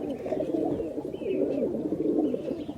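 Pigeons coo softly and continuously, several low overlapping calls with no one talking.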